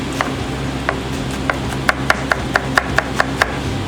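A knife chops onions on a cutting board for breakfast potatoes, about a dozen sharp, crisp taps that come faster toward the end, close up over a low background hum.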